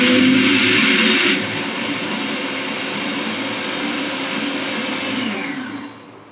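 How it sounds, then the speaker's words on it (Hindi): An electric kitchen grinder chops onions, green chilies, fresh coriander and spices for degi koftay, giving a loud, steady, high whirring roar that dips slightly early on and then winds down near the end. "प्याज, हरी मिर्चें, हरा धनिया है, जितने भी मसाले थे वो ग्राइंड हो रहे हैं, चॉप हो रहे हैं।"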